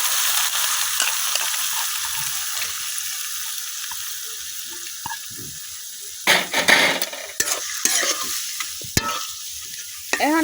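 Soaked lentils tipped into a pan of fried onion and garlic and stirred, a loud close sizzle that fades into quieter frying, then scraping stirs and clattering utensil strokes against the pan.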